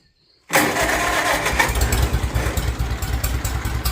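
A 1951 Farmall Cub tractor engine coughs to life on choke after a brief silence and settles into a steady, loud, rough running sound close by.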